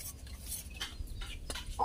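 A native chicken clucks in short bursts close by, with light background noise and no talking.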